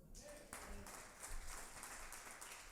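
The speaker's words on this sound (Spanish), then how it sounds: "Un aplauso al Señor" Congregational applause in a church service at Iglesia Sangre de Realeza, rising after a brief quiet start into a steady, moderately faint wash of many hands clapping.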